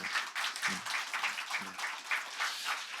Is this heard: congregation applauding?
yes